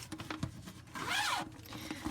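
Zipper on a small pouch pulled closed in one quick, close zip, surrounded by faint handling clicks and rustles.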